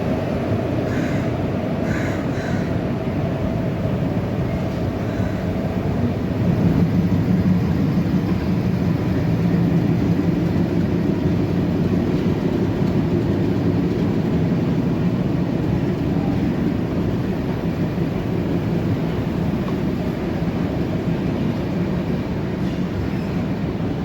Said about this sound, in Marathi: काय सुंदर डिपार्चर झालं मित्रांनो आपल्या ट्रेनचं